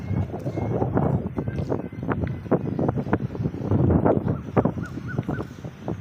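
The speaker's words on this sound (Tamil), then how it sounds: "காற்று செம்ம காற்று அடிக்குதுங்க எங்கள் ஊரில்" Gusty wind buffets the microphone in uneven, rumbling bursts, with faint bird calls somewhere in the background.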